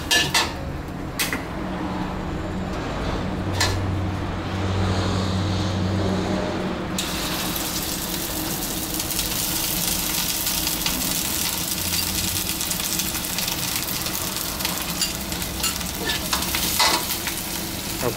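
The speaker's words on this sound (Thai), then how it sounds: "เราก็ตั้งกระทะลงไปแล้วเราจะเอาเครื่องแกงลงไปผัดก่อนนะครับ" Curry paste for Northern Thai nam ngiao sizzles steadily in a pan without added oil, a continuous frying hiss with scraping stirring strokes throughout.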